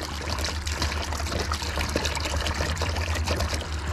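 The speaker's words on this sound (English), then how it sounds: "make sure that my squirt bottle is filled up good enough" Water is poured steadily into a squirt bottle for window cleaning, a continuous close trickling and splashing over a low rumbling background.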